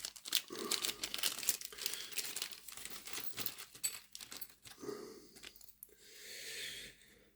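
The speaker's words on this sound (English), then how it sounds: "Let's just see what we've got in this plastic bag." Crinkling and rustling of a plastic bag holding model locomotive parts and screws being rummaged through, close and continuous with irregular bursts, easing into a softer crackle near the end.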